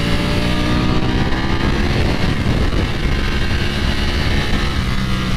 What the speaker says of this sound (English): Beautiful sound from the Ducati motor.